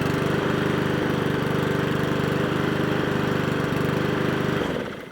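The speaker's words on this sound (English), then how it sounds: "so it's got a few little tiny misses there. So it has got a little tiny hunt and surge issue." A Mountfield HP41 lawnmower with a slight hunt and surge carburetor issue runs with a steady, close, loud engine drone and faint small misses, then cuts out just before the end.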